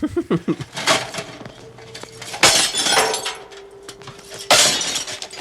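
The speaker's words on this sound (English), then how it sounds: "he sees these lanterns and shakes them and they don't have fuel, so he just smashes them on the ground" Glass lanterns are smashed on the ground in the film First Blood: a series of loud, sharp shattering crashes with tinkling shards, spaced a couple of seconds apart.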